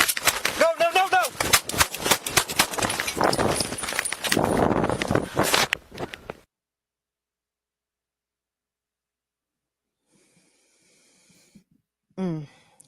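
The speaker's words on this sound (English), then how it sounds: "42-year-old Matthew Tuttle, Tuttle, was shot and killed by a Jasper County Sheriff's deputy January 26 in Northwest Indiana." Gunfire from a Jasper County Sheriff's deputy caught on police bodycam during a fatal January shooting in Northwest Indiana: a loud, close burst of sharp cracks for about six seconds amid strained voices and breathing, then silence and a brief voice near the end.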